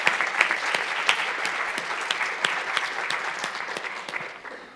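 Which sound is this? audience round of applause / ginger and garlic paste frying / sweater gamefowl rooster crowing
audience round of applause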